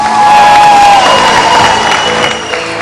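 A studio audience on a game show claps and cheers loudly, a dense continuous wash of applause with some shouting, steady throughout and slowly easing off.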